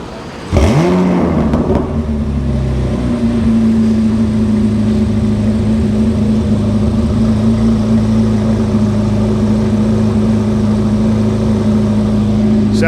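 A Corvette C8 Z06 fitted with an AWE exhaust cranks over and catches with a sharp bark, then settles into a loud, steady, rumbling idle that holds close and unbroken.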